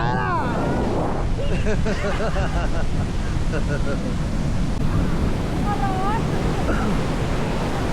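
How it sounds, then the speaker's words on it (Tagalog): Ocean surf rolls onto the beach in Zambales with a steady wash of water and wind buffeting the microphone, while voices call out faintly over it. "Pakita mo sa kanila yung alon pare."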